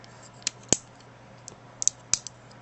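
A plastic joint on a 1/100 Master Grade Nu Gundam model snaps into position with a few sharp, faint clicks, scattered irregularly over a quiet background.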